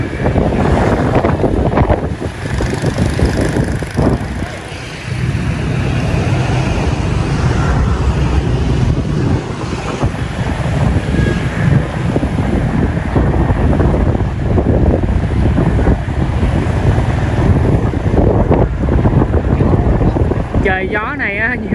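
Gusty wind buffets the microphone on a lake in Da Lat while a pedal boat is ridden, with water lapping around the hull and a person talking intermittently throughout.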